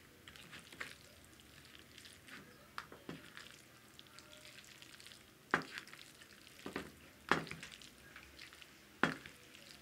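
Food frying in a pan while being stirred in a home kitchen, a steady low sizzle broken by sharp scrapes and clinks of a utensil against the pan, close and with no talking.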